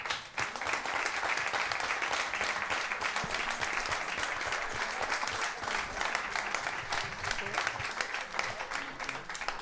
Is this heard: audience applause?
yes